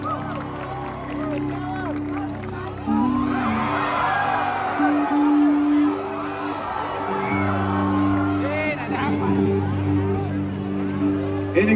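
Concert audience at a band's show applauding and cheering for a band member, the whoops and claps swelling for several seconds under a speaker's voice and sustained band tones.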